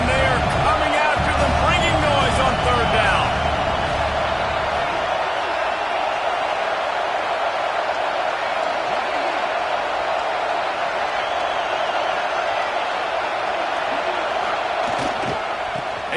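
A football stadium crowd roars at a college game, a loud sustained wall of cheering that swells early and then holds steady beneath a play-by-play commentator talking throughout.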